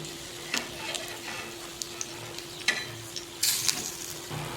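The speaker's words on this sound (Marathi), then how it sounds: "आता एक मिनिट झालाय आपण या वड्या पलटी करू" Soft, steady sizzling of fritters frying on an iron griddle, with a few scattered clicks and scrapes of a utensil nearby.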